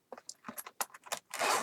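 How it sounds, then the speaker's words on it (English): A hard, bright green faux leather case with hard plastic parts is zipped: a few short scratchy clicks, then a longer close rasping zip at the end, with no talk. "And it zips."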